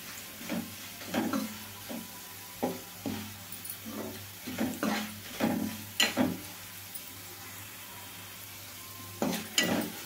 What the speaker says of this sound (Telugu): ఇదిగోండి ఆనియన్ ఇంకొంచెం వేగాలి.